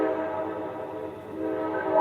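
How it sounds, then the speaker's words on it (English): A late-night freight or passenger train rumbles loud and steady while crossing a bridge, a dense continuous roar with tonal hum that holds throughout without pause. "Well, now the train's loud and clear."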